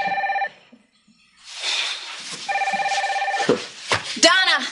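A telephone bell rings in short repeated bursts indoors in a sitcom scene, loud and close, with pauses between rings and voices speaking around it.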